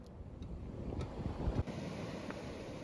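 Big waves surge and break right on the shore of a windy beach, a steady roar of surf mixed with gusting wind buffeting the microphone, with no voices.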